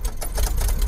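Car engine idling with the lights switched on, a close, loud, rapid ticking and chattering rhythm from the running motor.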